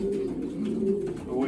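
A racing pigeon coos steadily while it is handled, a soft, continuous low throaty murmur close by that swells and dips over a second and a half. A voice can be heard faintly underneath.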